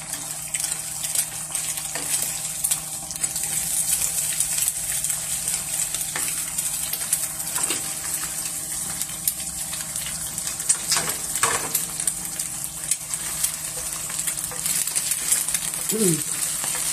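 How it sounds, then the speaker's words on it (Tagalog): Egg and luncheon meat stirred and mixed in a frying pan, scattered scraping and clinking over a steady sizzle. "Halo-haloin na natin lahat guys."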